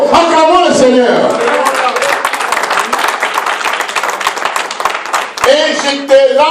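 A church congregation applauds the Lord in a dense, steady burst of clapping that fills the middle of the clip, with voices heard at the start and end.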